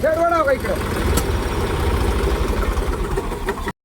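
A tractor stuck deep in mud runs its engine with a low, rumbling idle that throbs steadily throughout, while voices talk over it nearby.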